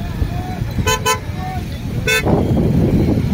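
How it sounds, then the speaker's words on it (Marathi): Busy road traffic near a hill temple at Mayamba, Savargaon, with a continuous rumble of engines and three short, loud car horn toots standing out, two close together then one more, alongside talk. "मग ट्रॅफिक आहे, मला नाही वाटत ट्रॅफिक थांबणार"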